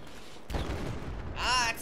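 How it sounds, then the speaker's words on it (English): A short burst of booming gunfire and explosion noise from Battlefield 4, fairly loud, followed by a brief warbling tone. "Ah, explosions!"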